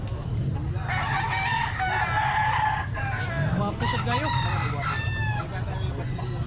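Several roosters crow repeatedly at close range with bright, wavering calls and scattered clucks, over a steady low hum, while someone speaks briefly.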